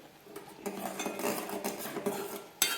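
A spoon scrapes and clinks against a metal bowl as dry ginger powder and cumin powder are stirred into a sweet idiyappam mixture; close, soft, irregular strokes with a sharper tap at the end.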